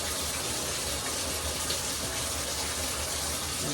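Tap water gushing steadily into a bathtub as a bath is drawn, a continuous broadband rush with no pauses, close and fairly loud throughout.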